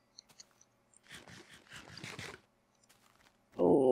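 Player character in the Gerbercraft video game eating chicken: a burst of soft crunchy chewing bites over about a second and a half, followed after a pause by a louder tonal game sound.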